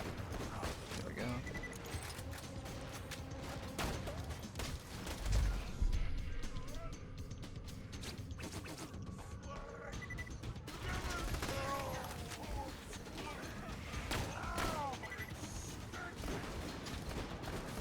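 Gunfire from an iron-sight gun in the shooter game Borderlands 2 crackles in quick bursts over dense game noise and effects, fairly faint overall, with a player talking over parts of it.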